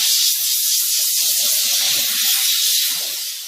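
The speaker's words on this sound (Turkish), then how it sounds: "Yani anlatmak istediğim buhar gözeneklerin arasına giriyor." A steam car wash machine gives off a steady, loud hiss of spraying steam, continuous throughout with slight swells and a faint fade at the end, no voices.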